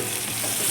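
Garam masala and turmeric powder being stirred and fried in an iron pan for chicken curry, a steady close sizzle with soft scraping throughout the short moment.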